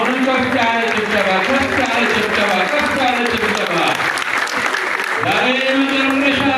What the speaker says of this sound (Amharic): አሁንም ከፍ ያለ ጭብጨባ